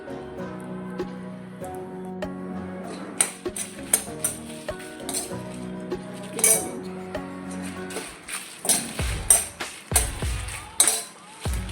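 A spatula repeatedly clinks and scrapes against a pan as ingredients for sengala podi are roasted in a little oil, with sharp metallic taps growing busier in the second half and no voices.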